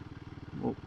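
A lightweight motorcycle engine chugs with a rapid, even pulse while riding along narrow country lanes near Matlock, briefly swelling as the throttle opens, heard close and moderately quiet.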